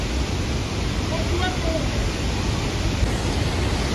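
Flood water rushing through a village in Kullu Manali, a steady loud broadband roar like a torrent, with a voice faintly talking over it.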